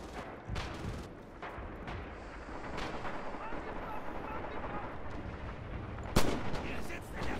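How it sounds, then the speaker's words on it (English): Artillery explosions in the Red Orchestra 2 video game, a dense wash of booming blasts and rumbling gunfire, with one sharp loud crack near the end standing out from the continuous battle din. "Oh, the artillery just destroyed lots of people there."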